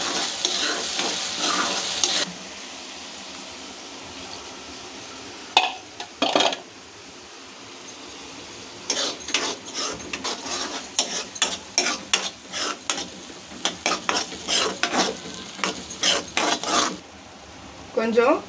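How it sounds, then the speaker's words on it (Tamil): Tomatoes sautéing over a high flame for a South Indian fish curry (meen kulambu), a steady sizzle broken by repeated bursts of a spoon scraping and stirring the pan, loud and close, with no talking. "தக்காளியோட மறுமணம் போகிற வரைக்கும் லைட்டாக நல்லா அடுப்பை கூட்டி வச்சு வதக்கிக்கோங்க."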